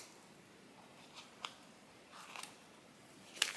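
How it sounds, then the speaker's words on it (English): A few quiet, crisp snips of dull scissors cutting cloth, spaced irregularly over faint room hiss, with no voices. "I feel like I need to sharpen these scissors."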